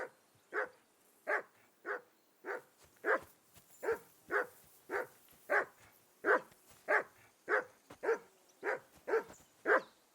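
A dog in Kingdom Come Deliverance 2 barks repeatedly in a steady rhythm, about sixteen sharp, moderately loud barks over ten seconds, close by with no talk over them.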